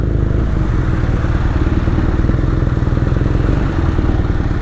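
A customized BMW R nineT motorcycle runs with a loud, close exhaust, producing a deep, steady, rapidly pulsing engine rumble with some mechanical clatter and no talk.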